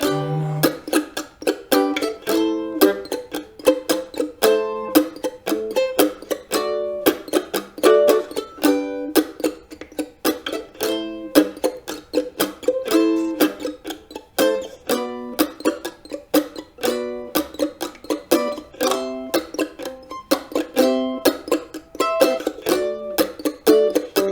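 Rhythmic, choppy mandolin strumming with short muted strokes and shifting chords, played steadily in a bright, percussive pattern throughout.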